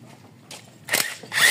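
A pneumatic impact wrench works on a Toyota Corolla 4AFE engine in a repair shop, two short loud rattling bursts after a quieter lead-in, close by.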